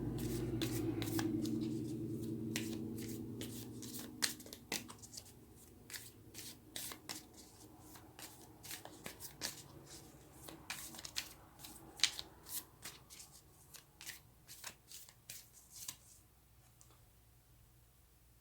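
Tarot cards being shuffled and drawn: a soft riffling rustle at first, then a long run of crisp, separate card snaps and flicks, close up and fairly quiet, with no talking.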